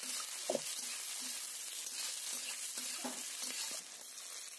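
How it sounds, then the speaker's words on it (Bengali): Chopped onion fries in oil for egg khichuri made with sun-dried rice, giving a soft, steady sizzle with a few light scraping stirs, close but faint. "পেঁয়াজ কুচি দিয়ে দিলাম। তো দিয়ে আমি নেড়ে চেড়ে একসঙ্গে মিশিয়ে নিলাম।"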